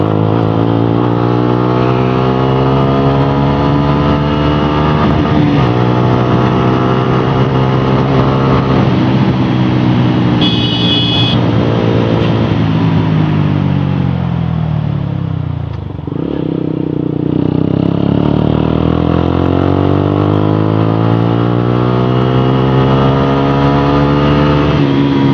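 A Suzuki Gixxer SF 155 motorcycle fitted with an Akrapovic exhaust revs loudly and repeatedly up and down, its rasping exhaust note climbing and falling close to the microphone for the whole stretch, with a brief dip near the middle.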